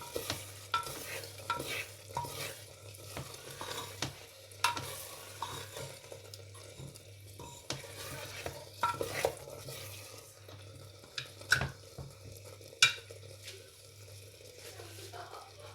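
Mung bean dal sizzles quietly in oil in a pan while a utensil scrapes and stirs in irregular strokes, with occasional clinks, at close range.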